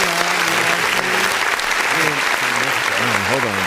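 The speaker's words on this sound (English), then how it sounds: "round of applause for you" Applause cheering a podcast guest's news of season tickets, a thick wash of clapping that carries on under animated, overlapping voices.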